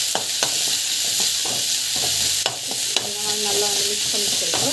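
Salted tomatoes sautéed and stirred in a pan give a loud, steady sizzle, broken by repeated spatula knocks and scrapes against the pan at an irregular pace.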